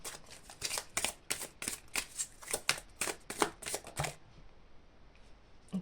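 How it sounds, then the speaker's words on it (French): Oracle cards shuffled by hand during a spiritual card reading, a quick run of crisp riffling bursts in a fast uneven rhythm, close and clear, stopping abruptly near the end with a quiet pause and a final soft tap. "J'ai envie de tirer une dernière carte"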